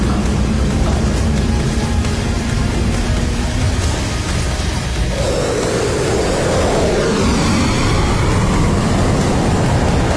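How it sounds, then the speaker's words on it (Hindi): A military jet aircraft takes off with a loud, steady engine roar that swells and shifts partway through into a rushing, rising whine as it accelerates. "Wolf clear for takeoff."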